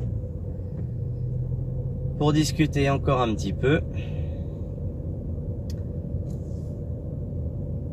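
Peugeot 406 Coupé driving, a steady low engine and road rumble running throughout with someone talking briefly over it near the start.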